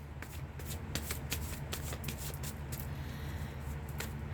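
Tarot cards being shuffled by hand, a quick steady riffle of soft papery flicks close up, with no talking.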